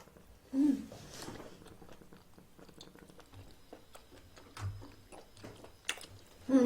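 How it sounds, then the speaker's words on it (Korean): Big whelk dipped in sesame oil sauce with minced garlic being chewed up close at a Korean seafood mukbang, wet crunchy bites and steady mastication, with a few soft vocal sounds. "백고동 먹어볼게요. 백고동은 기름장 찍어서 먹으려고요."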